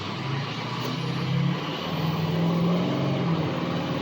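A 7.3 diesel truck with a suspected throttle position sensor fault accelerates at quarter throttle, giving a steady, loud low engine drone close by with a slight swell in the middle and no voices.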